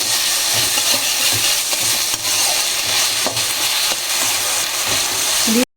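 Cauliflower frying in a hot pan with turmeric and salt, a loud, steady close sizzle with occasional stirring scrapes, continuous until it cuts off abruptly at the end.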